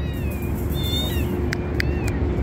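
Kittens for sale at a street pet market in Baghdad's Adhamiyah district give a few short, fairly loud meows over a steady background hum and bustle.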